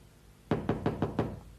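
A door in a 1991 television drama is knocked five times in a steady, firm rhythm, close and sharp against a quiet background.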